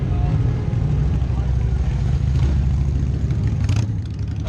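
A motorcycle engine revving hard through a tire burnout at a large motorcycle rally, a loud sustained roar that eases slightly near the end, with voices talking over it.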